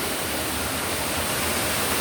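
Steady, dense roar of Düden Waterfall in Turkey, heard from a viewing terrace, loud and close, with no pauses or voices.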